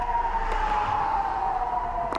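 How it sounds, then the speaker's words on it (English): Rocket warning siren sounding in Israel, a steady wailing tone holding one pitch, heard from a distance over low background rumble with no talk. "Another one of these sirens is just going off."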